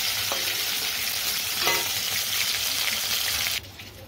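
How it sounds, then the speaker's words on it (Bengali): Oil sizzles and crackles steadily as fish fries in a pan, with a few faint clinks of a utensil; the hiss drops off sharply at the end. "ভালো করে লাল করে ভাজা হয়ে গেছে একদিকে, আর একদিকে ভাজবো"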